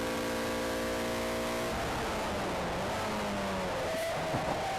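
Race car engine at the Brands Hatch GP circuit, revving loud and close with steady harmonic whine that drops and shifts as the car brakes into a corner, tyres squealing faintly beneath.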